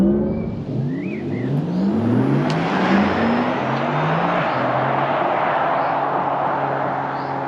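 A Porsche Taycan accelerates hard with a rising electric whir whose pitch sweeps upward in steady bands, loud and close, holding strong for several seconds with no talk over it.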